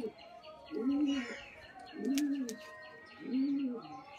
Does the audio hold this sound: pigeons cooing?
yes